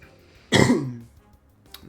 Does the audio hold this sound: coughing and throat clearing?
yes